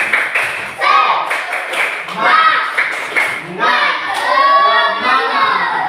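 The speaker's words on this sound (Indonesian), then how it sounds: "coba tepuk semangat dulu kita" A classroom of students performs the rhythmic "tepuk semangat" clap in an Indonesian Islamic religious studies lesson, with patterned claps mixed with loud group chanting and voices throughout.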